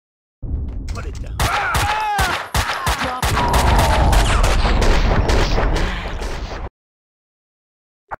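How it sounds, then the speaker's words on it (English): Gunfire in the Max Payne 2 shooter game: loud, dense bursts of rapid shots and booms fill several seconds, then cut to silence before one last sharp report. "And now I'm being shot at."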